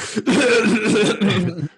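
A person coughs in a few rough, harsh bursts close to the microphone, sounding almost like a chuckle, then trails off.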